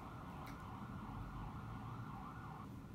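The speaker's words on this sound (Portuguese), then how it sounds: "Deixa a ambulância passar." A passing ambulance siren wails steadily, faint and distant, under low traffic-like background noise with no talk.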